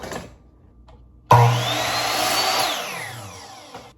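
A power tool cutting wooden paint stir sticks starts abruptly after a quiet moment, then runs loud and steady with a whining buzz that slowly winds down toward the end.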